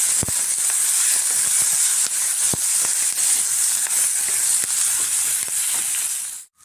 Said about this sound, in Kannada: ಇದು ಸ್ವಲ್ಪ ಚೆನ್ನಾಗಿ ಫ್ರೈ ಆಗಲಿ ಈರುಳ್ಳಿ